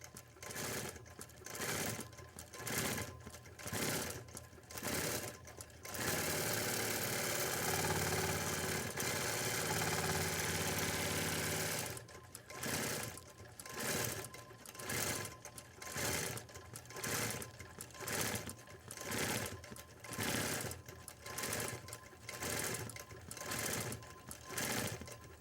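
A quilting sewing machine stitches out an intricate pattern, its motor running in steady rhythmic pulses, with one stretch of continuous fast stitching in the middle, close and loud.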